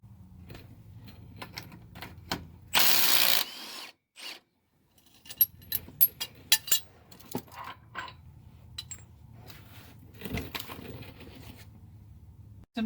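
Tools at work on a Bilstein 5100 front shock bolt, with a short loud mechanical whir followed by a string of sharp metallic clicks and clanks, spaced irregularly and close by.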